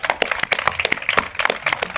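A debate audience breaks into dense, brisk applause, many hands clapping together in a continuous crackling burst that stays loud and close for about two seconds.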